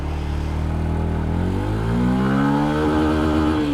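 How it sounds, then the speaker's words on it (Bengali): A Yamaha FZ-S FI Hybrid 150cc petrol-electric motorcycle pulls away in first gear, its close engine note rising steadily in pitch as it revs up, loud and continuous with no talk. "clutch and bike start"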